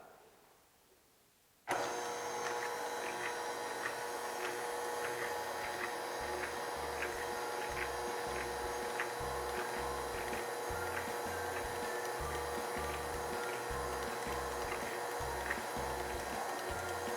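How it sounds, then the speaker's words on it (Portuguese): A stand mixer switches on and beats hot sweet dough to cool it, a steady motor whir with a rhythmic thumping churn of the beater, close and continuous after a brief quiet start. "eu vou resfriar ele batendo na batedeira"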